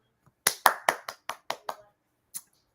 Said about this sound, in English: Let's give a stoked round of applause